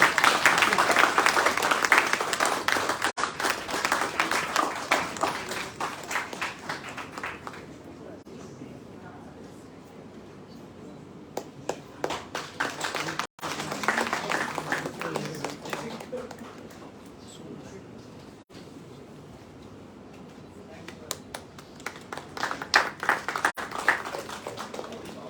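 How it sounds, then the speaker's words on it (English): Audience applause at a Mumbai book launch event, rising and falling in several waves of clapping across the room, with a voice speaking over it at times. "Let's keep the applause coming,"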